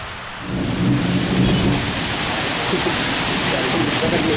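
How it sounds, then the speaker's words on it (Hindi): Heavy monsoon rain in Balaghat district, India, a loud dense roar of downpour that begins abruptly and stays steady, close and continuous. "इसी अनुमान के तहत यहां बारिश जिले के लालबर्रा, बालाघाट और अन्य क्षेत्रों में देखी गई।"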